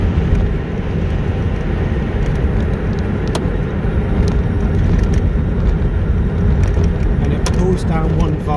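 Inside a Reva G-Wiz electric car converted to lithium-ion batteries, steady road rumble and motor hum run throughout while driving, with occasional sharp clicks and a voice now and then.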